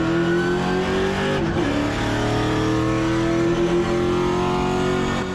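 Race car engine in a Cars Tour West race, holding a steady, loud, high drone on a restart with one brief dip in pitch before climbing again, surrounded by other cars' engine noise.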